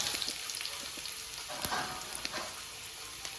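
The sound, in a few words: onion frying in oil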